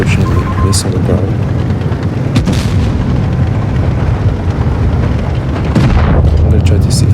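Tank cannon fire in World of Tanks Blitz from a Foch 155, with a loud sustained rumbling roar of booming blasts and battle noise filling the mix, flaring into sharper bursts near the start and end.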